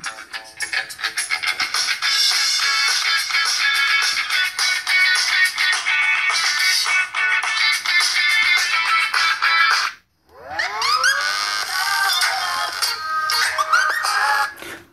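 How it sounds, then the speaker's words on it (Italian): Music from the built-in loudspeaker of a Bluboo Maya smartphone at maximum volume sounds thin and bright. It plays loud and steady, with a brief dropout near the end before resuming. "vediamo come suona il telefono, ok siamo al massimo"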